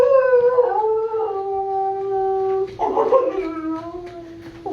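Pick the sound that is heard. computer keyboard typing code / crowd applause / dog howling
dog howling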